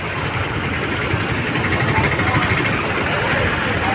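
A tractor engine idles steadily at a busy grain market mandi in Ganj Basoda, producing a constant low rumble with broad background noise and no breaks.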